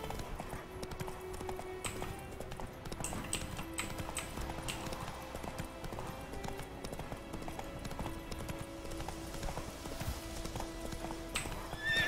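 Video game horse hooves (Witcher 3) in a steady clip-clop at a quick, even gait, with a brief whinny near the end, over a busy game background.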